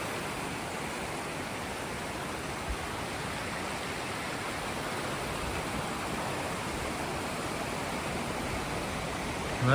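Water tumbling over Janet's Foss makes a constant broadband rush, heard near and steady throughout, with a brief faint knock partway and no talking.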